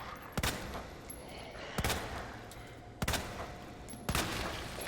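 Gunfire from Resident Evil 2 remake as a zombie is shot: four sharp, loud shots spaced roughly a second apart, each with a short tail over steady game ambience.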